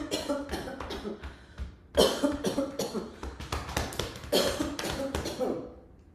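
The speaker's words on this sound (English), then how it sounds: "You can change from very light coughing to very deep coughing." People doing yoga practice cough again and again in close, irregular bursts, some light and some deep and chesty, with a few throat clearings in a quiet room.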